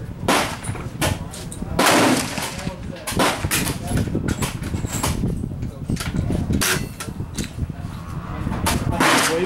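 Sharp air rifle shots from a Hatsan 135 in .25 caliber, fired at targets out to 100 yards, crack out several times between people talking close by.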